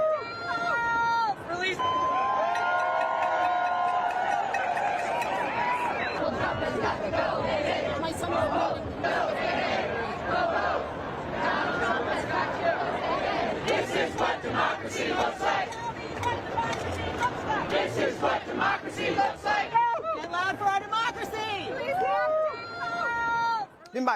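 Large crowd of protesters at a street demonstration chanting loudly in unison, rhythmic massed voices with cheering and babble, continuous and dense throughout.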